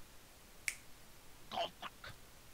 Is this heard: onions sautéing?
no